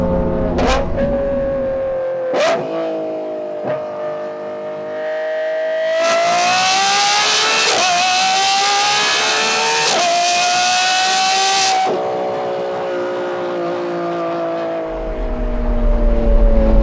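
A Lamborghini Revuelto fitted with a Gintani exhaust revs hard through the gears, rising in pitch, with several sharp shift breaks and a loud, sustained howl at full throttle, heard up close.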